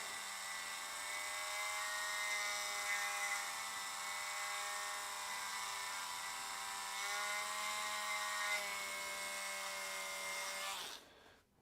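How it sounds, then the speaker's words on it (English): Dremel rotary tool slowly rotated while cutting away debris, a steady high-pitched whine held for about eleven seconds before winding down abruptly at the end, with no talking. "You kind of just hold your Dremel there, kind of slowly rotate."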